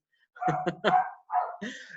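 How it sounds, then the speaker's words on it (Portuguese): A female dog barks indoors, three quick close barks followed by a couple of softer yips, loud and near, with no one talking. "Aqui a minha cadela também está connosco, porque ela vai ladrando, vai latindo"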